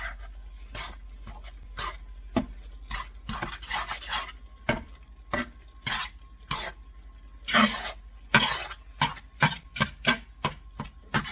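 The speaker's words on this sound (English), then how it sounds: "Okay, so I'm going to just stir this up." A moist elk enchilada mixture with green chilies being stirred, a string of close scraping and clanking strokes in an uneven rhythm, with no talk.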